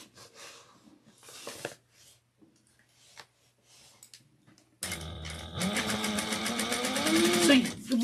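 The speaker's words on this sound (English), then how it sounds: "And I'm going to top stitch." Sewing machine top stitching a fabric panel, starting midway with a loud, close, rapid mechanical whir that runs steadily for about three seconds, after quieter handling sounds and brief talk.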